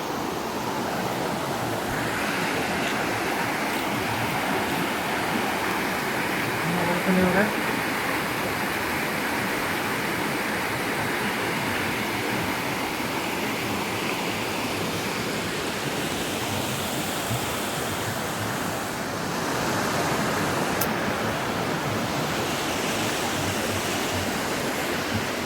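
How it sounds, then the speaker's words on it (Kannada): Didupe Falls near Dharmasthala roaring steadily, a dense broadband rush of falling water heard close and continuous, with no voices over it. "ನೋಡು ನೀರು ಸೌಂಡು ಅಂಕಲ."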